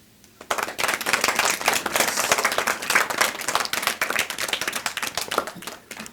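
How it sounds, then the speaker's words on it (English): An audience at a children's story time claps after a book reading, a dense burst of hand claps that starts abruptly, holds steady for several seconds and then thins out. "If you like this book, clap."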